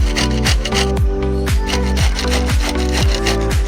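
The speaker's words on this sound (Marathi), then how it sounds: "कांदा आणि दुधी भोपळा आपण किसून घेऊया." Onion and bottle gourd are grated by hand for thalipith: steady, loud, close rasping strokes repeat about twice a second in an even rhythm.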